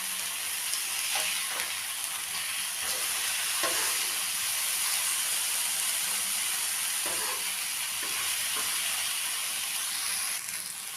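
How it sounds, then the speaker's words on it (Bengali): Fish grilling on a hot tawa gives a steady, dense sizzle and crackle of frying oil, continuous for the whole stretch, with a few soft knocks of handling in the background. "তাওয়া গ্রিল ফিশ ভেজে নিলাম, কমপ্লিট ফ্রাই হয়ে গেল"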